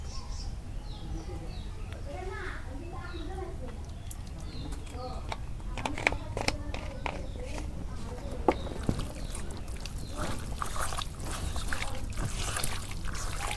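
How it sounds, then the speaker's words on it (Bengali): Beef is hand-mixed with spices and mustard oil in a bowl, giving soft, wet squelching and slapping sounds at close range with a few sharper clicks. "এখন আমি সর্ষের তেল দিয়ে মাংসগুলো ভালো করে মাখি নেব"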